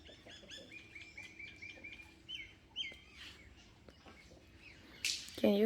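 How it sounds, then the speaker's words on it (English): Small birds perched on a twig in a chilly winter morning garden give repeated high chirps and tweets, fairly close, with a brief louder burst of calls near the end. "See, some birds are sitting on this"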